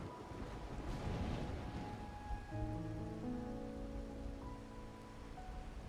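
Rain falling in a Wuthering Waves story cutscene, a soft steady patter with faint wind, later overlaid by sustained quiet musical tones, all at low volume.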